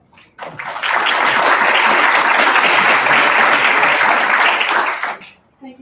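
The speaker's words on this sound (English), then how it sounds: "let's give her a round of applause" An audience at a summit on air quality and health breaks into loud, dense applause for a speaker. It holds steady for about five seconds, then quickly tapers off.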